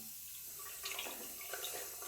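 Running water rinses excess lather and surplus water off a bar of Canada shaving soap after brush work, a steady close splash from a tap with no one speaking.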